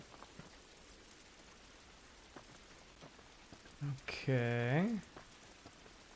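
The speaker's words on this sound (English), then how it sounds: "This rain ain't gonna do us any good." Steady rain patters on surfaces in The Last of Us, with scattered drop ticks throughout, while a brief spoken word and a rising vocal sound cut in near the end.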